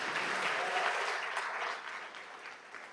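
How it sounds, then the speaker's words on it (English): A church congregation at a Sunday service breaks into dense applause, a continuous wash of clapping that is strongest at first and then gradually thins and fades. "you can applaud to that"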